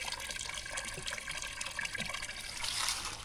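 Water runs steadily at a mountaintop spot in Tui, Galicia, a continuous close splashing hiss that swells slightly toward the end, with no voices over it.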